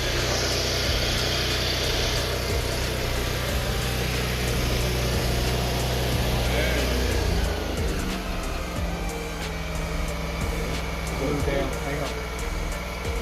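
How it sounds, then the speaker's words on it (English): An engine mounted on a test stand runs steadily with a loud, continuous low rumble and droning hum, its tone shifting slightly partway through, with some voices audible underneath. "start the motor, man."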